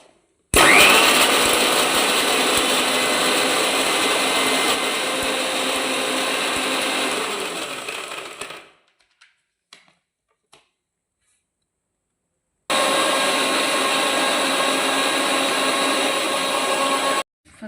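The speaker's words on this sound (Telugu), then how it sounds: "ఇప్పుడైతే దీన్ని మిక్సీ పెడతాం ఫ్రెండ్స్." A mixer grinder whirs loudly and steadily, blending masala for a village-style mushroom curry, stopping partway for a few seconds of silence before a second burst of grinding starts up again.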